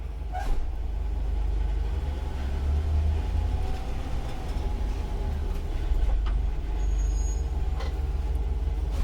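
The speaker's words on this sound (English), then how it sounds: "I'm going to pull the bus ahead about 5 miles an hour. I'm going to apply the service brake and come to a complete stop" Bus rolling ahead at about five miles an hour and braking to a complete stop during a service brake check, steady heavy engine and road rumble with faint brake and air hiss, no voices.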